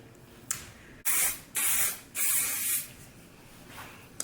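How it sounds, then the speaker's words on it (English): Several short bursts of aerosol hairspray hiss close by, one after another, with brief pauses between them. "Spray it down real good"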